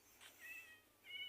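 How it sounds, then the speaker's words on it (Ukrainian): A cat in Minecraft gives a few soft, faint meows in a short series, followed by a brief sharper chirp at the end, with no talking. "Котик, hello!"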